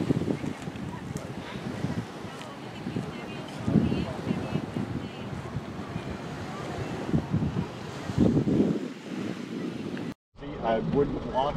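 Wind and waves at the shore of Long Island Sound, a continuous rushing surf and gusty wind buffeting the microphone, moderately loud with a brief dropout near the end.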